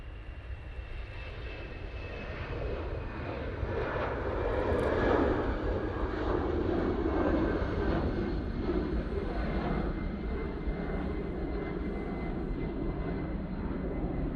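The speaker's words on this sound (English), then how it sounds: "Next out, we have the Brussels A319 going off to proper Brussels" An Airbus A319 departs Manchester for Brussels, a steady engine roar that builds gradually, peaks around the middle and then holds at a sustained, moderately distant level.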